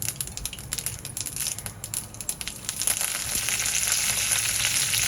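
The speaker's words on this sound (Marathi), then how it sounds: "हिंग घालूया, अर्धा चमचा मेथीदाणे घालूया. मेथीदाण्याने पण कढीला स्वाद छान येतो. कढीपत्ता घालूया." Asafoetida, fenugreek seeds and curry leaves crackle in a hot tempering for yogurt kadhi, with sharp popping at first that swells into a loud, steady close sizzle.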